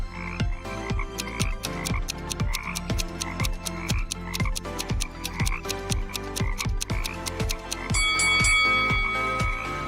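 Toads croaking in a fast, regular series of sharp, resonant calls repeating about twice a second, fairly loud and close, with a denser chorus swelling near the end.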